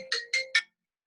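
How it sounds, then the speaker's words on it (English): A mobile phone rings for an incoming call, three quick bright chiming bursts of its ringtone, close and clear, then the phone falls silent. "I can't help it if someone's ringing me"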